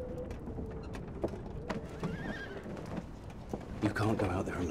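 Horse hooves clopping and a brief whinny as the animal is led toward a stable in a fantasy film setting, heard at moderate distance under and between voices, with creaking tack and background movement.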